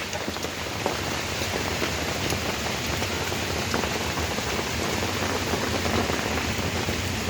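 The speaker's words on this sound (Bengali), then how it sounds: "বৃষ্টিতে একেবারে ভরে গেছে চারপাশ" Heavy rain pours down all around, a dense, even roar of drops on surfaces that stays loud and constant throughout.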